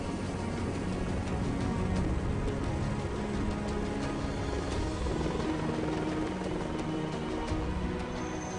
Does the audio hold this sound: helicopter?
yes